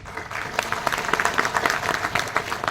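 Seminar audience in Ahmedabad clapping in appreciation, a lively mix of many distinct hand claps. The individual claps are audible within a moderately loud, steady round.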